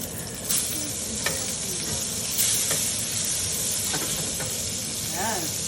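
Scored foie gras sears in a hot pan, its fat rendering with a steady bright sizzle and crackle, punctuated by occasional spits and pops, while a voice speaks quietly over it.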